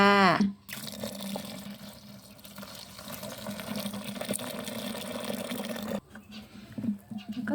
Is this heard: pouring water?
yes